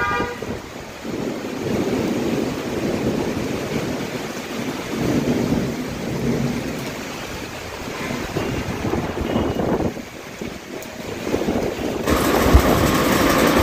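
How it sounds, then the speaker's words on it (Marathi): A sudden thunderstorm in Nagpur brings strong wind and rain, a dense, continuous rushing roar with low rumbles of thunder. It keeps roughly even loudness and swells near the end. "वादळी वारा, विजेचा कडकडाट"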